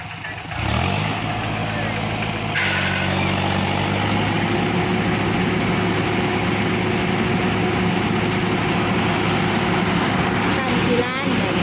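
A tractor engine runs loudly and continuously, with a steady low idling rumble that revs up briefly near the start and then holds even for the rest of the stretch.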